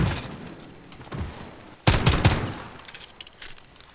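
Bursts of gunfire from a gun in Call of Duty Modern Warfare Warzone: several sharp close shots, with a loud cluster near the middle and scattered smaller reports before and after.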